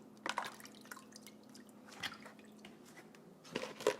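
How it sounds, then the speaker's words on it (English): Water is dumped from a container while cleaning blue crabs, quiet splashing and dripping in a few brief bursts near the start, middle and end, with soft trickles between. "now I'm going to dump this water"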